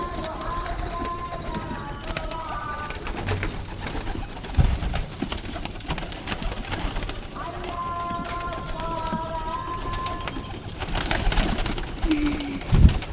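Pigeons, with young birds and eggs close by, coo repeatedly and softly up close, their low calls recurring in bursts over rustling and handling noise.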